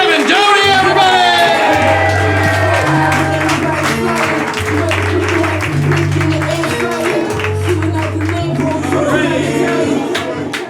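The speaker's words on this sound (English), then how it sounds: "Start clapping right now for Manny, Sierra, and Kevin Doty, everybody!" A comedy roast battle audience claps, whoops and shouts continuously at close range, loud and sustained, with an amplified voice talking and a thumping music beat running under the crowd noise.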